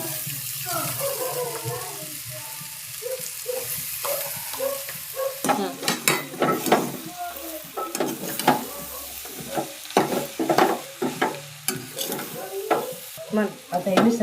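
Boiled potatoes and masala are stir-fried in a pan for vada pav filling, with a soft sizzle under repeated rhythmic scraping and stirring strokes that grow louder and more frequent midway, close by.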